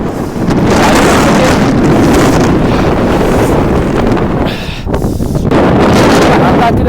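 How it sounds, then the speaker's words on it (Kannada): Strong, gusting wind buffets the microphone beside Gurudongmar Lake in North Sikkim, a loud, continuous roar with a brief lull near the middle. "ಯಾವ ರೀತಿ ಇದೆ ಗಾಳಿ ಅಂತ"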